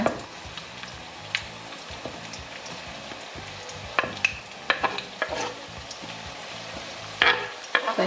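Shallots and garlic fry in hot oil with a steady close sizzle, while a utensil scrapes and clinks against the pan in scattered, irregular stirring strokes. No one talks.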